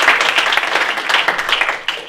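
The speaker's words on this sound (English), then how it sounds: "Give him a quick clap" A church congregation gives a brief round of applause, close and fairly loud, with overlapping claps that thin out within about two seconds.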